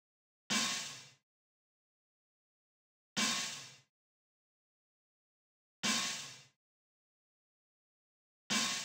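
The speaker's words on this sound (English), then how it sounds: "I ended up finding this open hat that sounded perfect." A pitched-down old-school acoustic open hi-hat sample struck four times at an even, slow pace, each hit a bright crisp wash that decays quickly into silence, heard alone.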